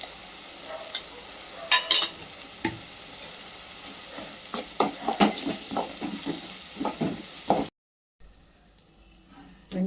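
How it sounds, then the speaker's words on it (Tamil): Onions sautéed with chili powder in a pan for mutton fry: soft sizzling under irregular scrapes and knocks of a stirring spoon, close up, with a brief silent gap near the end. "வெங்காயம் நல்லா வதங்கிடுச்சு. வதங்கின பிறகு மிளகாத்தூள் சேர்த்துக்கலாம் காரத்துக்கு ஏற்ப."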